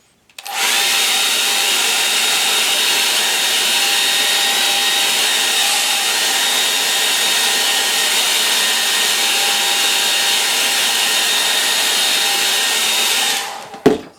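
A hair dryer blows steadily on a painting for about thirteen seconds, loud and close, a constant whooshing roar that switches on at the start and cuts off near the end, with no talking.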